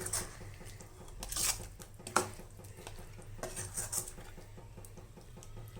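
A utensil stirs Chettinad chicken curry in a pot, with repeated scrapes and sharp metallic clinks against the pot at an irregular pace, close and fairly loud, with a faint sizzle underneath and no talking.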